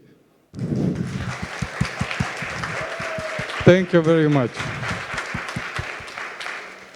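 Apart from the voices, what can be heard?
audience applause at a startup showcase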